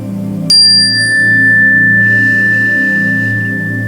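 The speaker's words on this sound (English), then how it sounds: "at the sound of the chime." A meditation chime strikes once, loud and clear, its bright ringing tone sustaining for several seconds over a steady low musical drone.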